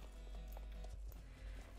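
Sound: horses' hooves clip-clopping in a western video game

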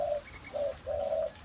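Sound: spotted dove cooing

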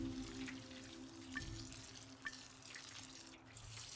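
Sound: watering plants in video game Among Trees

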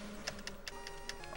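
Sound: computer keyboard typing

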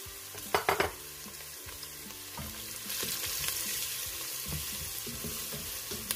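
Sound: onion frying with turmeric and spices in a pan

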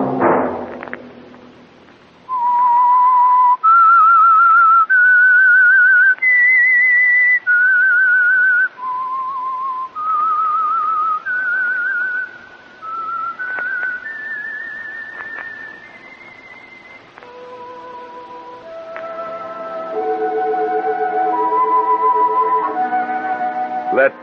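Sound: whistled theme signal of The Whistler radio program

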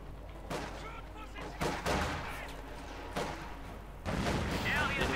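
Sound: gunfire in the video game Company of Heroes 2

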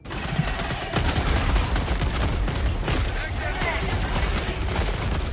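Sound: machine gun fire in the video game Helldivers 2

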